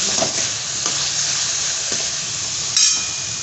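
Ridge gourd being stirred in a hot pan, a steady close sizzle and hiss of frying with a few soft spatula scrapes and a brief clink near the end.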